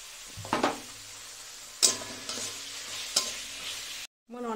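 Carrot, beans and potato fry in oil in a pan, giving a soft steady sizzle broken by a few sharp scrapes and clinks of stirring, close and fairly quiet.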